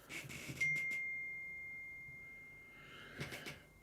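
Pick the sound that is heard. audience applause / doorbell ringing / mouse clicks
doorbell ringing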